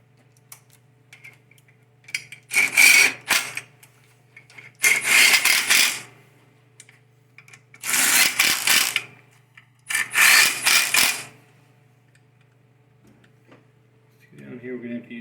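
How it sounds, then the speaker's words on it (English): A ratchet with a 15mm socket and wall extension tightens bolts on a 4L60E transmission during reassembly, giving four loud, rapid clicking bursts about a second each, separated by quiet pauses. "And we need our 15mm"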